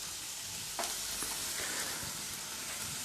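Pizza seasoning cooking in a pan, a soft steady sizzle with faint stirring scrapes, quiet and close, no talk.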